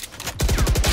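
A sudden burst of rapid, repeated blasts starts partway through and keeps pounding loudly to the end, like gunfire or explosions in a video game.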